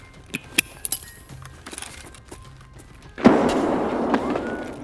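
A grenade is thrown in Escape from Tarkov: scattered metallic clinks and light clicks of handling, followed by a sudden loud burst that leaves a sustained roaring wash of noise.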